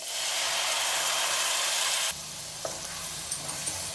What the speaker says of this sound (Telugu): అల్లం తెరగడ్డ పేస్ట్ వేగింది కదా, ఇప్పుడు ఈ టమాటా ప్యూరీని వేసేద్దాం.